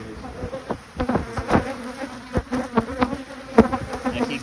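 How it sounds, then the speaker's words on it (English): Bees buzz densely at a beehive, a close, continuous droning hum with individual insects swelling and fading as they pass near. "all their bees will come"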